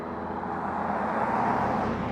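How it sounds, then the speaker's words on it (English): A passing car with a loud muffler rumbles down a street in Stockbridge, a rural Georgia town at night, its steady broad roar lingering at middle distance with no one speaking. "You can hear that car, that muffler going all the way down the street"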